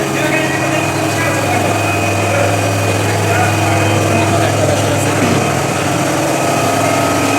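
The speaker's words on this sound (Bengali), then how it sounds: "বিকট শব্দ আসছে যেহেতু মেশিন একদম চলছে, প্রচুর শব্দ হচ্ছে এই মেশিন থেকে।" Heavy machinery runs loud and steady in a potato cold storage plant's machine room, a continuous droning hum with a strong low tone that never lets up.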